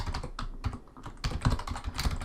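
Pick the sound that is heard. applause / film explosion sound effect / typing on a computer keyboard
typing on a computer keyboard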